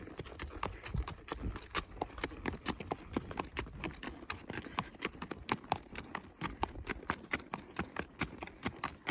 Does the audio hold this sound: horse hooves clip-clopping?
yes